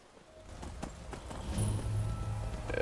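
Horse hooves clopping in the game Skyrim, a soft irregular patter of steps close by that grows slightly busier and louder toward the end, with no talk over it.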